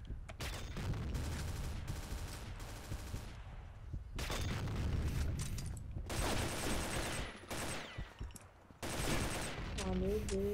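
Rapid video game gunfire in a capture-the-flag match on a snowy map, loud bursts of automatic shots in several long volleys separated by short gaps, with someone talking excitedly between them.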